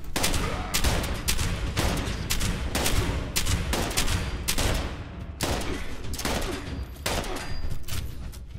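Rapid bursts of assault rifle gunfire in the video game Fallout 76, loud and close, repeating in short sharp volleys with brief gaps between them.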